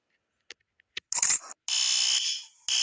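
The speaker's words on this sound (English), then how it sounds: "I'm going to pull down the fire alarm." A school fire alarm rings after being pulled, sounding in loud, shrill electronic bursts: a few short beeps, then sustained blaring tones with a brief gap before it starts again.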